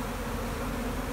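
Honey bees working hives amid canola, clover and alfalfa during a heavy honey flow, a dense continuous buzzing hum close by and unbroken, with no voices.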